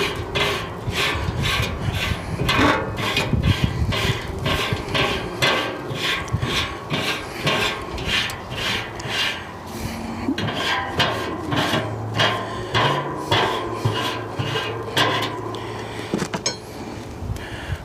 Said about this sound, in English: Put the rebars in.